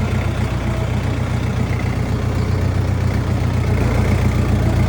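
A Jinma 404 tractor's diesel engine runs at a steady idle, a loud, close, low rumble with an even throb that holds without a break.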